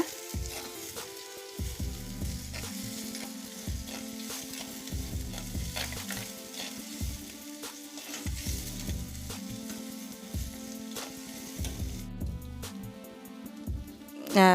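Red chilies and onions fry in a pan, a steady sizzle with occasional stirring scrapes that runs under a tonal musical backing for the whole stretch.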